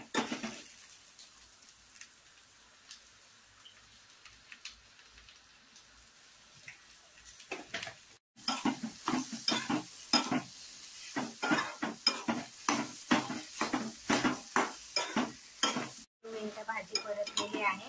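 Vegetables for a fasting dish are sautéed in a pan. A quiet stretch gives way to a rapid, rhythmic run of close spoon scrapes and stirs over a soft sizzle.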